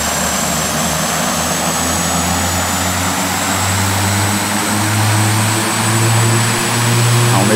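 Turboprop engines of a Shorts 330 in a flight simulator game hum steadily and then throttle up, with a loud, continuous drone whose low pulsing tone rises and strengthens.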